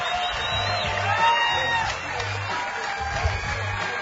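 Crowd at a bass fishing tournament weigh-in, 2014 Bassmaster Elite at Cayuga Lake, cheering and clapping as a continuous moderate roar with an amplified announcer voice talking over it.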